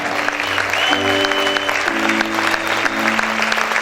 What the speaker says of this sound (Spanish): Sigue aplaudiendo en esta hora.